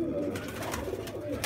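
Pigeons coo in repeated low, throaty calls close by, overlapping one another against a faint background hum.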